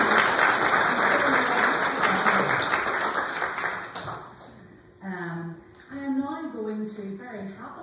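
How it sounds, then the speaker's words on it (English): A church congregation at a Sunday Harvest service gives a round of applause, a dense patter of many hands that fills the room for about four seconds before fading as a voice begins speaking. "a little round of applause for everybody who was here"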